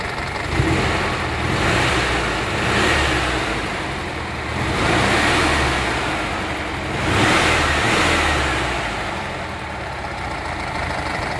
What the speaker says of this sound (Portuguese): Motorzinho confiável, muito gostoso e que deixa qualquer Brasília deliciosa de dirigir